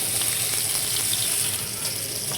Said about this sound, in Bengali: পেঁয়াজ কুচি বসিয়ে দিয়েছি, তেলও দিয়ে দিয়েছি।